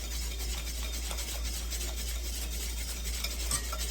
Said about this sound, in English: I'm just going to grab myself a spatula or a whisk or a spoon, and just mix that in there